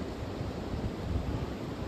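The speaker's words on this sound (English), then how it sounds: "This wind's gonna make it hard." Steady wind roaring across the microphone in snowy Pennsylvania woods during a flintlock deer hunt, a continuous broadband rush with no other distinct sounds.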